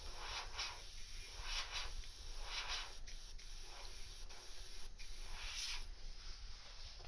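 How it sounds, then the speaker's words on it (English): An airbrush sprays paint onto an Alien Xenomorph piece: a steady, close airy hiss that runs the whole time, with soft pulses as the trigger is eased and pressed. "we can always airbrush over this stuff"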